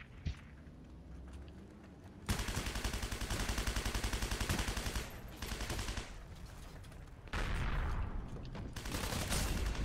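Gunfire rattles in the Heroes & Generals online shooter: dense, loud bursts of rapid shots that stop and restart several times over steady background noise.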